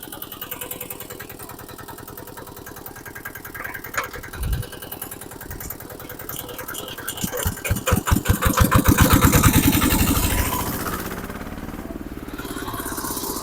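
A diesel rotary tiller engine chugs at idle, then revs up into a louder, rapid pounding roar before easing back to a steady running drone, close by with no talk.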